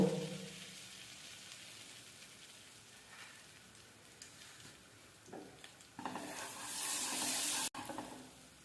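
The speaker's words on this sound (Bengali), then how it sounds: "জিরা আমরা দিয়েছি, এরপরে একটা শুকনো লঙ্কা দেব।" Cumin seeds and a dry red chili hit hot oil, giving a quiet crackle that builds into a louder, steady sizzle near the end.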